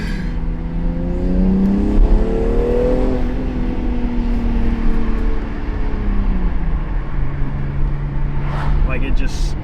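BMW X3M fitted with RK Tunes cold air intakes driving, its engine drone rising in pitch then settling into a steady lower cruise tone, loud and close, with a brief whine near the end.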